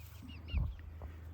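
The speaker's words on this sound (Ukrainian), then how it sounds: "Ось такі наші е, курочки Білефельдер." Soft, low clucking from Bielefelder chickens close by, a couple of brief murmured calls over faint background hiss, with a few light chirps higher up.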